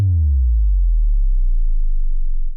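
A synthesized sub drop from an Ableton subdrop rack at default settings: a loud, clean low tone sweeping steadily downward in pitch for over two seconds, then cutting off, with no other sounds.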